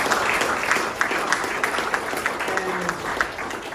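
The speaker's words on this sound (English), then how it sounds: "can you give yourselves a huge round of applause?" Audience members applaud themselves at a community gathering, a steady, fairly loud patter of many hands clapping throughout, with a few faint voices mixed in.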